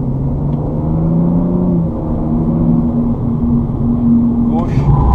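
A BMW M235i with 326 hp accelerates on a test track, its engine note climbing and droning steadily under a voice talking throughout, with a brief shift in pitch midway.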